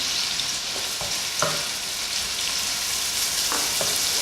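Onions and spring onions sizzle steadily in a hot pan while a utensil stirs them, with a few soft scraping clicks over the continuous frying hiss.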